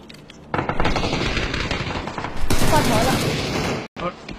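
Rapid, dense gunfire from a shooting video game, including sniper fire, rattles in loud sustained bursts that swell midway and cut out briefly near the end.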